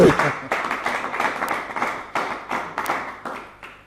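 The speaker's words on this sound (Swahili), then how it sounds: "Makofi kwa ajili yake." A crowd breaks into applause, a dense patter of clapping hands that swells and repeats in bursts for several seconds, recorded fairly close in a live studio setting.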